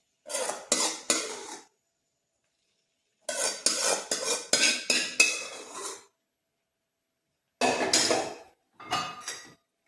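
A spoon stirs cooked tomatoes into tomato pickle in a pan, making bursts of clanking and scraping against the metal separated by quiet pauses.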